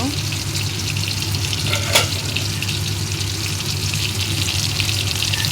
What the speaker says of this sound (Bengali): এবার বেগুন ভাজিটা আবার উল্টা দিব।